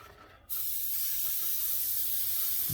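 An airbrush sprays dark track paint thinned with isopropyl alcohol onto Dragon styrene tank tracks, a steady close hiss that starts abruptly and holds evenly.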